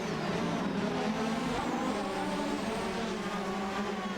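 McLaren MP44 and Lotus 100T race cars in a racing video game give a continuous, buzzing high-revving engine whine, with layered cars running close together and a steady loudness throughout.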